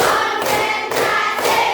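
A few sharp hand claps in a classroom lesson, spaced evenly and loud, each a distinct close burst with no talk over them.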